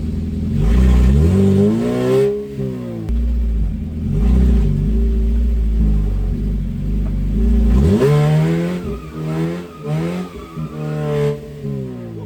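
A modified mid-engined Suzuki Swift drift and autocross car revs hard and rises and falls in pitch, a loud, close engine note with a brief dip before surging again in repeated bursts of acceleration.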